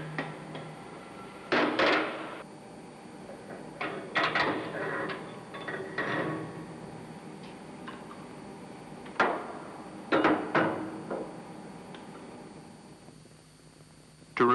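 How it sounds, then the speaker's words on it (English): A small tin hammer lightly taps a seized valve spindle during removal from an air start valve, giving a few short metallic knocks in scattered clusters over a quiet room background. "If the valve spindle seizes when it is being taken out, tap it lightly with a tin hammer."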